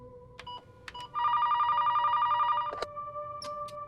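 An office telephone rings with a loud, steady electronic trill lasting about a second and a half, framed by a few sharp clicks and handset knocks before and after.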